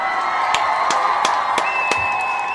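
An audience gives a round of applause for the Umoja children, with scattered sharp claps, cheers and whoops over a steady crowd roar, fairly close and lively.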